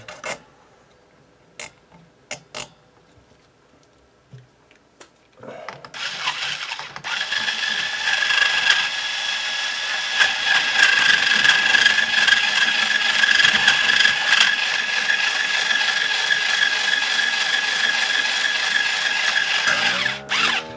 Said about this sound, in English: every video I use my Ernie Ball Power Peg Pro string winder